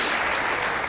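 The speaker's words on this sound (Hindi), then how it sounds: "ताली होनी चाहिए यार" Studio audience applause on a television comedy talk show, a dense, steady clatter of clapping filling the whole second at an even loudness with no voices over it.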